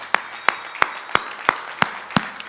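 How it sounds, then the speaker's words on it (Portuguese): Single person clapping in a slow, steady rhythm, about seven sharp claps spaced roughly a third of a second apart, close and clear with no crowd, during a church teaching session. "Pessoal, dá uma salva de palmas para minha tia, olha que coisa linda."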